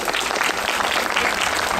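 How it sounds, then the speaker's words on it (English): A graduation ceremony audience applauds the graduates' parents with a loud, dense burst of clapping from a crowd that carries on evenly without a break. "Give your parents a big round of applause, everyone."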